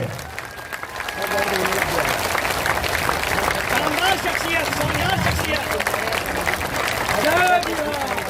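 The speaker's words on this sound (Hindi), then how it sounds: "ताली, जोर से ताली बजाइए।" A crowd at a Jan Suraaj party event claps loudly and continuously, a dense, sustained wash of applause with cheering voices rising through it.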